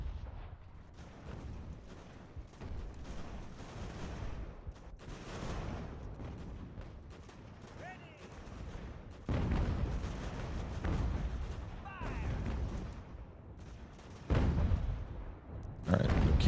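Artillery canister shot fired in Ultimate General: American Revolution during a winter battle, heard as repeated low booming volleys and crackling musketry rolling through a continuous battle din, with louder bursts near the end.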